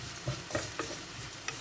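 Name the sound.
rice browning in oil, being stirred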